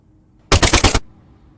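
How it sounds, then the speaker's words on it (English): Machine gun firing in a short burst of about five rapid, loud shots lasting half a second, isolated against near silence. "Now I have a machine gun."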